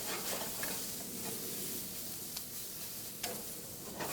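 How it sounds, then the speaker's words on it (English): Caramelized vegetables sizzle steadily in a hot pan while being stirred, a soft continuous frying hiss with faint scraping ticks, fairly quiet and with no talking. "Stir those around."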